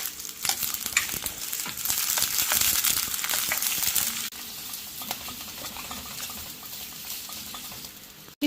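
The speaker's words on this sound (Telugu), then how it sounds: "మూకుడు పెట్టుకొని దాంట్లో ఆయిల్ వేస్తున్నాం. దానిలో ఆనియన్స్, అదేవిధంగా క్యాప్సికమ్," Chopped onions and capsicum frying in hot oil in a kadai: a steady loud sizzle with repeated stirring and scraping, easing slightly after a few seconds and cut off by a sharp clunk at the end.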